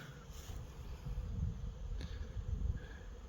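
Wasps buzz around the tops of beehives, a close, continuous whining drone that rises and falls as individual insects pass near, with no talk.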